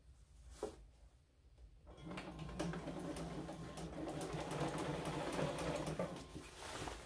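A sewing machine stitches a French seam on a shirt armscye, its steady mechanical whir running from about two seconds in after a couple of quiet clicks, close and moderately loud.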